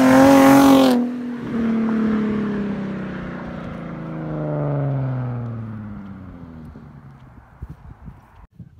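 An Infiniti G37 exhaust with test pipes roars loudly in a sharp rev, then the engine note sweeps down and settles into a rough, rumbling idle with a few pops.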